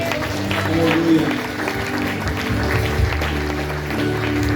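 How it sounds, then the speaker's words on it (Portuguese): A church congregation applauding in praise, a dense wash of clapping and crowd noise that rises and falls, with voices mixed in. "Uma salva de palmas para o Senhor"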